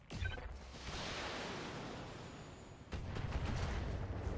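Mech weapons firing in BattleTech, a dense rumbling barrage that rolls on for several seconds, then a second heavy volley of booming impacts close at hand.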